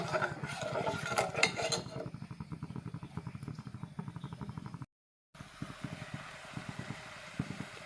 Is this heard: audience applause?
no